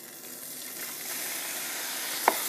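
Beef searing in a pan with bacon grease gives a steady, soft sizzle and hiss that swells slightly, broken by one sharp clink near the end, with no voices.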